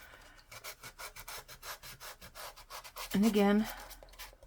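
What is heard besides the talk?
rubbing stamp with a sanding block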